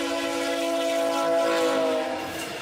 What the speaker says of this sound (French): Le train de Via Rail passe juste devant la ferme.